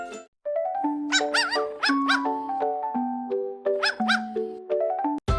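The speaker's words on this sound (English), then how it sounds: "D for dog." Cartoon-style dog barks pop out over a bright, bouncy children's phonics melody, several yelping calls scattered through the tune with no talking.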